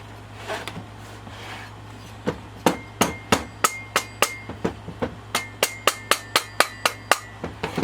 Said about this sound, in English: we just picked it with the rubber mallet and she worked up out of there